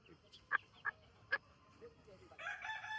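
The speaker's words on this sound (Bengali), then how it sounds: "এখন হচ্ছে এই মুরগি আর এই মুরগি পাশের যে মুরগি এই দুই মুরগি মারামারি না করলেই হয়" Hens in a backyard coop give several short, sharp clucks spaced apart, followed by a longer throaty cackle, moderately close in a quiet setting.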